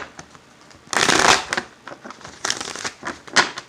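Tarot cards riffle and snap together in a few quick bursts of shuffling, close and crisp, with short pauses between the riffles.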